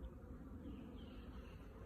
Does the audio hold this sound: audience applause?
no